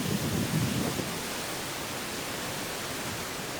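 A waterfall on a Jeju stream pours into a freshwater pool just before the sea, making a steady broadband rushing roar that is slightly heavier at the start and stays constant throughout.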